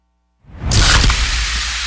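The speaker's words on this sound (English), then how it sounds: "You hear that? That's the sound of Pepsi Zero Sugar." Pepsi Zero Sugar cola fizzing, a sudden loud hissing whoosh after silence that settles into a sustained bright carbonated sizzle, close and clear.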